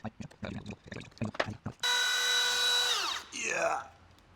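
A power drill bores into wood with a very blunt bit, a loud sustained high whine that holds steady then drops in pitch as it bogs down and spins again, following a stretch of talking in a woodworking shop.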